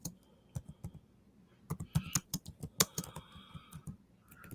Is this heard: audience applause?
no